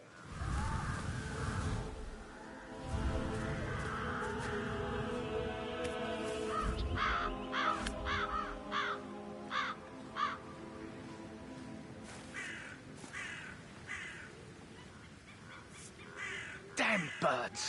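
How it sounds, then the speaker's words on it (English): Crows caw repeatedly in an English manor setting in the stealth game Hitman, a series of harsh calls in the middle of the scene over background music and ambient sound, with someone talking at the start and end. "Damn birds!"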